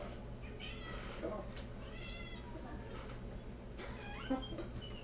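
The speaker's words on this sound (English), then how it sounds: "Well, of course the cat meows," A cat meows indoors several times in short, repeated calls, close but fairly quiet over a low background hum.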